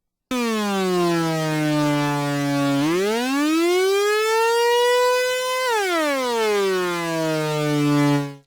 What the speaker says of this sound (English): all 8 voices will move at slightly different speeds to reach the destination key